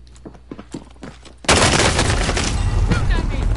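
Shotgun fire in a PS4 online shooter bursts in suddenly after quiet moments, loud and close, then sustains into a dense, continuous roar of gunfire and explosions.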